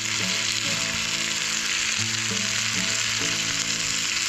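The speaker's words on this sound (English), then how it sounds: "Sausages in the pan." Sausages frying in a pan at a bushcraft campsite with a rock fireplace, a loud, close, continuous sizzle with faint tonal scraping or creaking layered through it and no voices.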